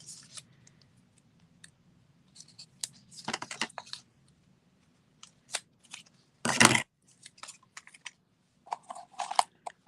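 A piece of foam being cut for a birthday hat gift box: sparse, quiet snips and rustles up close, with one louder crunchy burst midway and long near-silent gaps between.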